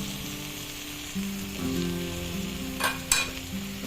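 Ginger-garlic paste fries in hot oil with a steady close sizzle, a brief stirring rustle partway through and no voices.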